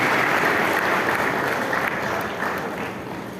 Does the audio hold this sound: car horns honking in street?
no